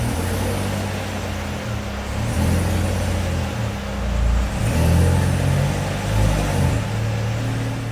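A Chevrolet C7 Corvette Z06 or Z51 rolls slowly into a garage, its engine a low, throaty rumble that swells and eases with light throttle, close and continuous with no talking.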